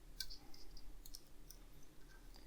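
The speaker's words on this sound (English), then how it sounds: "Snip this away with my trusty nail scissors" Small nail scissors snipping thin interior wires on a DeLorean scale model, a few faint, sharp clicks scattered over a quiet background hum.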